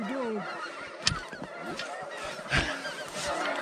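Geese honking as they come in to land during a duck and goose hunt, several calls overlapping at moderate distance against an outdoor background.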